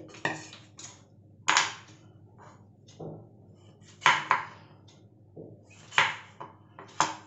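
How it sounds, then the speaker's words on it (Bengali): A knife chops the ends off pointed gourds (potol) on a cutting board, giving crisp, close, irregular taps and clacks with short pauses between cuts. "এইভাবে দুটো মাথা কেটে এইভাবে পুরো পটলটাকে একটু ছোকলা রাখবো না, পুরোটাই ছাড়িয়ে নেব।"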